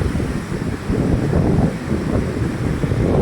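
The flooded Ghaggar river rushes past a submerged bridge in a loud, churning roar of water, mixed with buffeting wind noise on the microphone.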